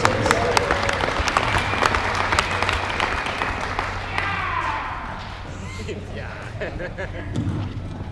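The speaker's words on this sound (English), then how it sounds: "I think if we give him a round of applause, he might move faster" At an off-road racing award banquet, a room full of people breaks into loud, dense applause that gradually thins out, with some voices and thumps mixed in.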